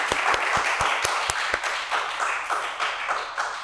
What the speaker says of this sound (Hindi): तो बहुत बहुत तालियों के साथ हम उनका स्वागत करेंगे